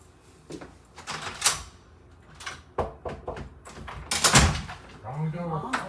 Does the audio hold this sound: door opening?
yes